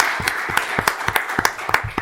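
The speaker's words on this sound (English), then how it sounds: "Another round of applause for her." A round of applause from an audience in a legislative chamber, brisk overlapping hand claps of a modest crowd, close and steady.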